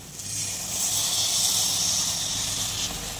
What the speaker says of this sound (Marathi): त्याच्यात आता थोडंसं पाणी टाकून घेऊया.